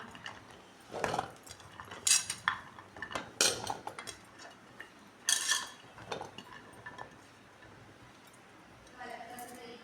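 Solid pieces of soap base dropped into a thick-walled pot make a series of irregular hard clinks and clacks, close by, with quiet gaps between the knocks.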